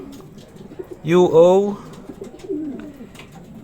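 Racing pigeon arriving home from a 365 km smash race in Legaspi, Albay, giving one loud, close coo followed by a softer second coo, with someone talking nearby.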